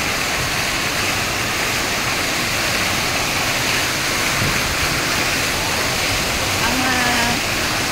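Water running to waste in an outdoor urban spot, a loud, steady gushing rush like a small waterfall that fills the whole clip without pause.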